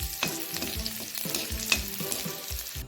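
Onions sizzle and fry in hot oil in a pan while a fish tenga, a sour fish curry, is being prepared, with a steady crackling hiss and occasional stirring scrapes, close and alone.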